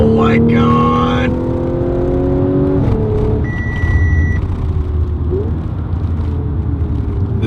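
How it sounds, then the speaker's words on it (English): A 2013 Audi S5 sounds a clear, brief electronic warning chime from its speed limiter over a loud, steady engine and road drone. The car's engine note shifts pitch before the chime. "you can like set a speed limiter so it always warns you when you go over that speed"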